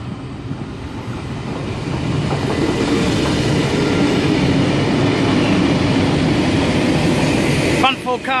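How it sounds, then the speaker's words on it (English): A Sydney train passes on the down main track at night near Turrella, its wheels rumbling and clattering steadily as it swells louder. A brief squeal sounds near the end. "We should have a train passing on the down main track just over there."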